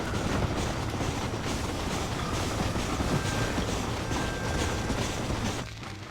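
A moving train in the video game Red Dead Redemption, a dense continuous rumble and rattling clatter of wheels and cars, loud and steady throughout, with a faint whine drifting in and the noise easing slightly at the end.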